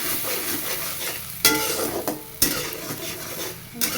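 Spice paste of cumin, coriander, salt, turmeric and garam masala sizzling in a pan, with a steady close frying hiss broken by a few scraping stirs against the metal.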